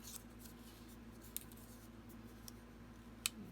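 Scissors snip paper strips during a Halloween craft session, giving a few quiet, sharp clicks spaced over a faint steady hum, with no talking.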